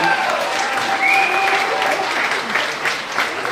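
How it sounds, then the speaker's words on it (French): Crowd at a volunteer recognition gala applauding warmly in a full, sustained roar of clapping, with a few voices and a whistle-like tone rising over it. "Puis une grosse main d'applaudissements pour tout ce qu'elle a fait jusqu'à présent."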